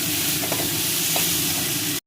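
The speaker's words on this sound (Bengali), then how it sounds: "মশলাটা ভাজা হয়ে গেছে" Spices frying in a pan for a winter vegetable vegetarian dish, a steady close sizzle with a few soft scrapes from stirring, continuous and alone.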